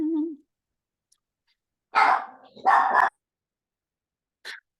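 A puppy barks in a few short, close bursts, two louder yaps close together followed by a brief fainter yip, after a soft whine at the start; no talking.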